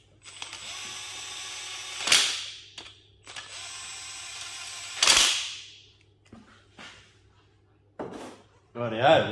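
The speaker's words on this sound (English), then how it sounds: "tension wrench set at 95 Newton meters, crank them down" A torque wrench set to 95 newton meters cranks down bolts on a 383 engine build, pulling the rear main into place: two long runs of rapid ratcheting clicks, each ending in a sharp snap, then scattered metallic knocks, close and clear.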